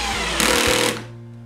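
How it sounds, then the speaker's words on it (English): A small Ryobi drill with its torque set to 7 drives a threaded insert in a short, loud buzzing whir that cuts off abruptly and then winds down to quiet. "on my drill here, a little Ryobi, torque set to 7"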